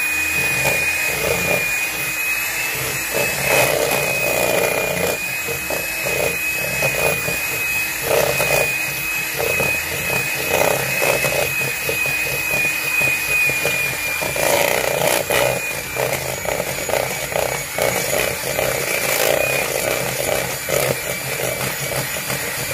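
Electric mixer beating butter and confectioner's sugar into frosting in a bowl, a loud close motor whir with uneven rattling and clattering pulses as the beaters churn, continuous and without talk.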